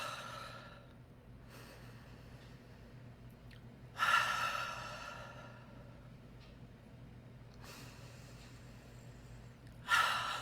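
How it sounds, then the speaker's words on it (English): A slow cleansing breath drawn in through the nose and exhaled out of the mouth during a calm breathing exercise, audible as soft, airy breaths against a quiet background, with a sharper exhale near the start and another near the end. "Now that's a cleansing breath"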